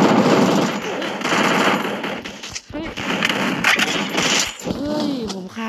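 Rapid bursts of gunfire from a gun in a mobile shooter game, loud and dense with overlapping effects and a voice talking over the action.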